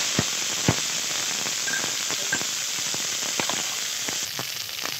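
Green pea paste goes into a hot iron wok for a stuffed pea kachori filling, giving a steady close sizzle with scattered crackles and small pops throughout, no voices.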